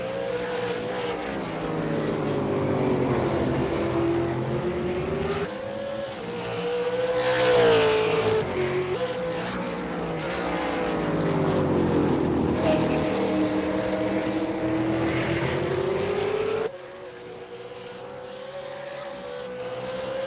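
GT race car engines at Brands Hatch in a sim racing game, a sustained high revving drone that rises and falls through gear changes, continuous and loud, with a sudden drop in intensity near the end.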